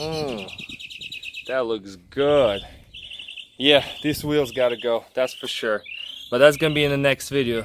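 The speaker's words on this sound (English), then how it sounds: "I do want to apologize for the birds singing." Someone talks over high, repeated bird chirps and tweets in the background beside a wrecked Corvette Stingray, the calls breaking through between his phrases.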